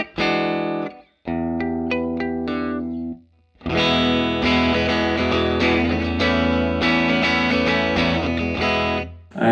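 An electric guitar plays a riff through a Line 6 Helix amp and cab model, set on the edge of breakup with the pickups in the middle coil-split position. It is loud and effected, with brief pauses between phrases.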